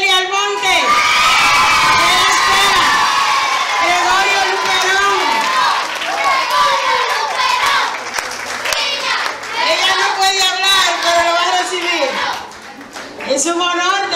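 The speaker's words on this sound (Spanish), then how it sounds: "Yo quiero un fuerte aplauso" Loud cheering and clapping from a crowd with many children's high shouts at an award ceremony for a Bible olympiad, sustained in waves with brief lulls.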